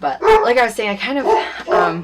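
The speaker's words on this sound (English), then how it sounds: "excuse the dogs" Dogs barking indoors in a quick series of loud, close, yipping barks and whimpers, mixed with someone talking over them.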